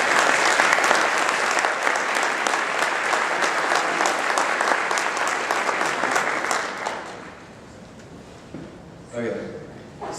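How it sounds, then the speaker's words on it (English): An audience at an association luncheon applauds loudly with dense clapping for several seconds, then the applause fades out and a few scattered claps and sounds remain. "everybody join me in a round of applause for them"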